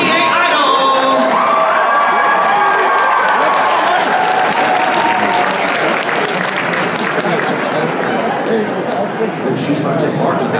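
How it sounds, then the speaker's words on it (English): An audience at a convention cosplay masquerade contest applauds steadily, with cheers, whoops and crowd chatter mixed in throughout. "round of applause"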